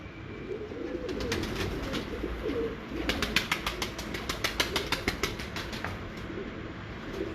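Breeder pigeons on a rooftop in Kasur city coo in a low continuous murmur, joined midway by a quick run of sharp clapping wingbeats or taps close by.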